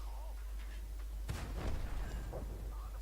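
Tank gun fire in World of Tanks from a T29 heavy tank, one heavy boom with a rumbling tail rising over a steady low engine drone, fairly close and loud.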